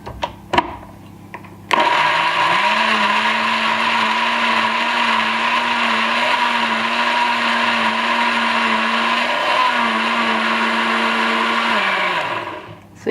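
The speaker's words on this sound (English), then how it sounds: "I think I'm going to go ahead and just blend it like for a few seconds to get it going" A blender whirs celery for green juice: a steady, loud motor drone that starts abruptly after a couple of faint clicks and holds for about ten seconds before winding down, with no talk over it.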